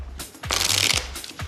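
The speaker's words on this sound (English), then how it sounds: "So I'll shuffle the pack," A pack of playing cards is riffled in quick bursts, a dense crisp flutter loudest in the middle, with short separate snaps before and after, close and alone.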